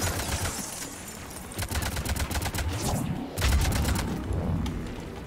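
Rapid bursts of gunfire from Mass Effect 3 crackle in dense volleys, with several sharper booming shots, loud and continuous over the whole stretch.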